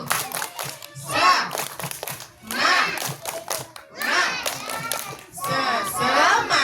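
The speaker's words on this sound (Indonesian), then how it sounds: "Tepuk semangat. Semangat, tepuk semangat baru." Children clap in short rhythmic bursts during a group cheer at a fire brigade disaster-preparedness session in Boyolali, with chanting voices between the clapping phrases.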